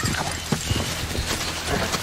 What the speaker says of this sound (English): That's my best rope horse.